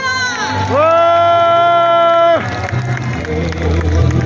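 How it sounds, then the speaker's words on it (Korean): A political rally crowd in South Korea roars with loud cheering and applause, a long held voiced note rising over the din midway before the noisy crowd carries on. "다시 한번 큰 박수 부탁드립니다"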